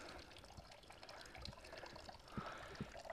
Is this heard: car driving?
no